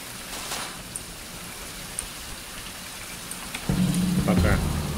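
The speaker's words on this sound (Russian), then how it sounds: "Вот мне сейчас только дождя не хватало." Steady rainfall in the video game Survival: Fountain of Youth patters softly throughout, with a few faint ticks, before a louder low rumbling hum joins near the end.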